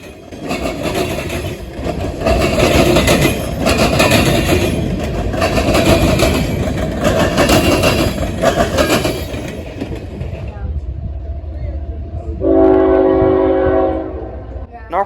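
A freight train pulled by two 4,400-horsepower diesel locomotives with about 20 to 30 cars rumbles past close by with steady rolling clatter, then a loud diesel horn blast sounds near the end.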